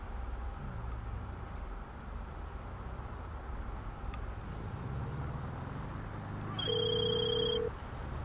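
A telephone gives one short electronic ring of roughly a second near the end, loud and clear over steady low background rumble.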